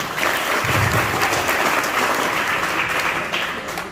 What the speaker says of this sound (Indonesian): Oke, semangat, tepuk tangan.